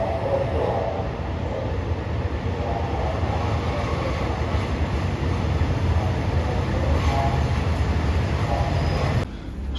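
A train in Thailand rumbles along steadily at close range, a continuous low roar of wheels and carriage noise that cuts off abruptly near the end.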